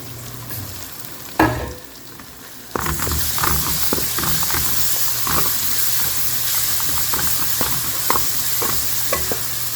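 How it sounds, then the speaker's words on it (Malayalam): Crushed ginger, green chili and garlic fry in a hot pan with a steady close sizzle, broken by a brief quieter pause near the start, then continuing with scattered crackles and stirring scrapes throughout. "ചതച്ച് വെച്ച ഇഞ്ചി പച്ചമുളകും വെളുത്തുള്ളി ഇട്ട് ഒന്ന് ഫ്രൈ ആക്കി ഇതിൻ്റെ പച്ചമണം മാറുന്ന വരെ ഒന്ന് ഫ്രൈ ആക്കി എടുക്കാം"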